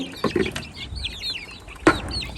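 Chickens and a brood of about twenty chicks cluck in a yard, short clucks bursting near the start and again near the end over a quiet background.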